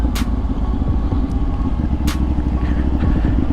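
A CFMoto 450NK motorcycle engine on a road drones loudly and continuously under acceleration, its note shifting briefly as gears change through the quick shifter, with wind rushing past the rider.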